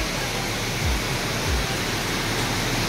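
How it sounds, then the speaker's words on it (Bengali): Waterfall near Jagdalpur, water cascading down rock steps in a constant loud, dense roar that fills the moment without pauses or speech. "জলটা এখান থেকে নামছে, নেমে এইভাবে এখান দিয়ে গিয়ে"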